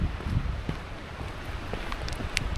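Strong wind buffeting the microphone on a New Hampshire mountain summit during autumn foliage, a steady loud rushing roar with gusty swells throughout and no talk.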